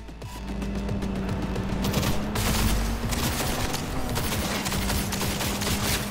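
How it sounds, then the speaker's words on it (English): Dense, sustained gunfire from shooting an enemy in Cyberpunk 2077 keeps up a rapid, loud volley of shots over several seconds, with booming impacts mixed in. "I'm shooting him!"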